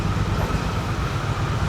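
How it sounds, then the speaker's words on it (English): A Triumph motorcycle rolls through the enclosed carriages of a Le Shuttle train, a steady, close low rumble of engine and wheels echoing off the metal walls without a break. "I'm driving through a train."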